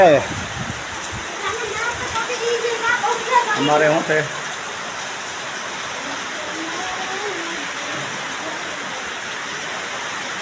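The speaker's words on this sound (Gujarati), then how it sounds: "આજ વરસાદ આજે છાંટા પડે છે" Light drizzle falls as a steady, soft hiss throughout, with someone talking briefly near the start over the patter.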